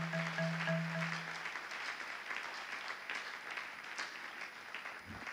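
A church congregation applauds for several seconds, a dense even patter of many hands that slowly thins out, with a brief tone at the start.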